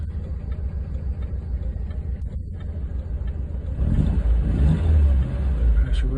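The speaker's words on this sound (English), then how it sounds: "Seems like a healthy engine." A Lancia HF 2000 Coupe, a rare right-hand-drive car, idles with a steady engine rumble, then revs up loudly partway through and holds the higher note before easing back.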